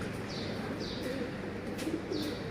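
A çakmaklı pigeon kept in a coop coos in a few low, soft phrases over a steady background hiss, with faint higher chirps and no voices.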